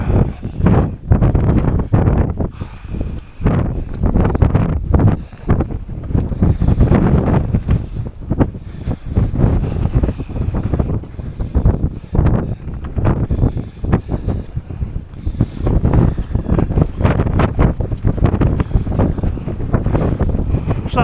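Strong, wet wind buffets a microphone on the Daear Ddu ridge of Moel Siabod, a loud continuous roar and rumble with constant gusting for the whole stretch, no voices heard.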